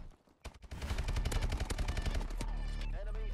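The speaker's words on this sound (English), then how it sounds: "Now, we have ourselves the KF5 Sub Machine Gun." Rapid bursts of KF5 submachine gun fire from Call of Duty Advanced Warfare crackle loudly in quick automatic succession, ending in a sustained ringing tail.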